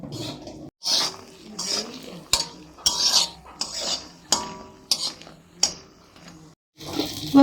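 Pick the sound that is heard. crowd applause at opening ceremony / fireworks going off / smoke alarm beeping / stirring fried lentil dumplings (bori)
stirring fried lentil dumplings (bori)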